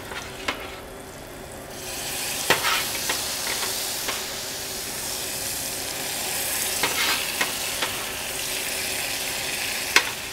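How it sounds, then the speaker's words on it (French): Pasta cooking water hits sliced courgette already sizzling in a pan, giving a broad steamy hiss with scattered scraping stirs and small pops, close and fairly loud. "Ici, je vais ajouter l'eau de cuisson"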